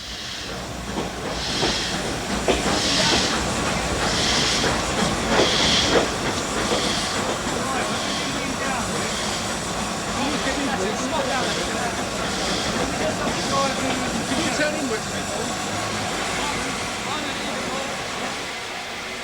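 An N2 steam locomotive moving toward the coaling stage in the steam age, with loud rhythmic chuffs and hiss over a rumbling rail background that stays steady throughout.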